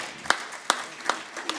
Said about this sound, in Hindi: तुम भी उस सकारात्मक अध्यापक के बारे में तालियां बजा के समर्थन में कुछ तो